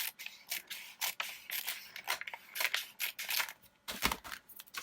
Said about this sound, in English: I'm going to just trim this just a tiny bit.